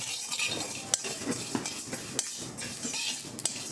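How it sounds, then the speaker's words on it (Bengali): Cumin seeds dry-roasting in a wok with a soft sizzle, stirred by a large spoon that clinks and scrapes against the metal several times in irregular rhythm; no talking. "এখন আমি এক চামচ বড় চামচে জিরা ভাজি দিলাম"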